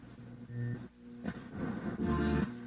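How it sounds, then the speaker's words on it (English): AM interference noise comes from a 1970 Challenger's AM/8-track car radio, a buzzing, tonal hum that swells and wavers in uneven bursts at moderate volume with no speech. "now you're hearing the familiar AM interference noise"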